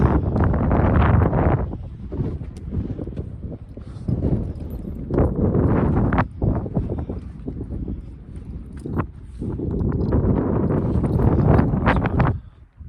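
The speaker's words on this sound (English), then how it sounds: "I'm hoping you can still hear me okay with the wind." Heavy wind on Mam Tor in the UK buffets the microphone in loud, continuous gusts, rumbling low and steady with a few brief dips and sharp knocks.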